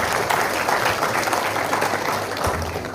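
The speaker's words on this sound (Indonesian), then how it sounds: "Kasih tepuk tangan dong buat mahasiswa." Audience applause for students at a public university lecture at Universitas Bung Hatta: dense, sustained clapping from a large crowd filling the hall, steady throughout, with faint voices underneath.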